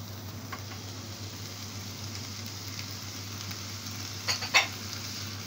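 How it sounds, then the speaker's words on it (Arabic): Pastrami frying in melted ghee in a pan, a steady soft sizzle and crackle throughout with a low background hum and a couple of brief sharper pops near the end. "السمنه بتاعتي ساحت، هنزل بالبسطرمه"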